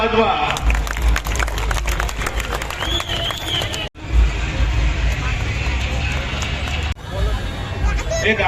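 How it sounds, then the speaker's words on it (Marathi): Loud, dense applause from a crowd at a Dr. Babasaheb Ambedkar Jayanti event in Bopodi, a steady roar of clapping that runs on with brief dips and no clear speech. "जोरात टाळ्या"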